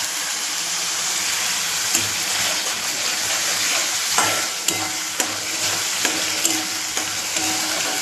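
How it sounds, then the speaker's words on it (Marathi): Spicy masala with garlic sautéed in oil for a jhanjhanit pattvadya bhaji, producing a loud, steady sizzle punctuated by light taps of stirring, with no talking. "तोपर्यंत आपल्याला त्याचं तेल चांगलं सुटेपर्यंत परतून घ्यायचं आपल्याला."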